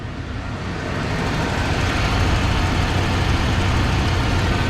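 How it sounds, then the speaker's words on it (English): A 1995 Ford F-150 pickup idles with an exhaust leak, giving a loud, continuous, low rumbling drone. The engine noise holds steady and fills the space close by, with no talk over it. "Definitely have an exhaust leak, guys."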